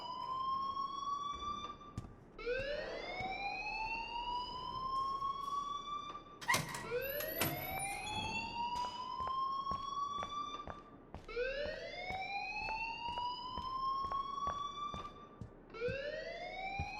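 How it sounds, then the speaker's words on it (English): A rising and falling wail from an alarm in the video game Life Is Strange repeats in slow sweeping cycles, loud and continuous, with a brief clattering burst partway through. "please turn off that alarm since that's your job"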